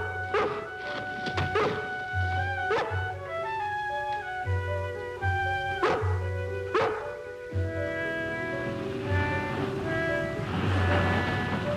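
A dog barks in an outdoor farm scene with a white-faced bull, short yips and barks breaking out repeatedly over a steady bed of harmonic music, fairly close and loud.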